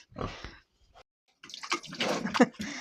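Water splashes and pours for a pig to drink on a hot day, with the pig grunting and slurping close by and a short pause between bursts.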